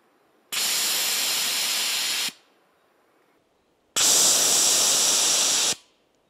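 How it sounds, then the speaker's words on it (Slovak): Two loud, sustained bursts of bear pepper spray hissing out as a misty cloud, each lasting nearly two seconds, separated by a short pause. "Mohli sme vidieť, že ten sprej urobil hmlovitú clonu"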